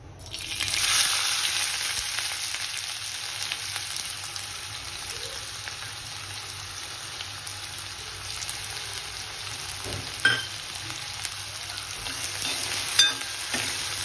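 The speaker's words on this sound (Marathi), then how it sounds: "हा छान गोल्डन ब्राऊन होईपर्यंत परतून घ्यायचा आहे." Chopped onion fries in about two spoons of hot oil for a prawn masala, making a continuous hissing sizzle that stays fairly even, with a couple of brief clinks near the end.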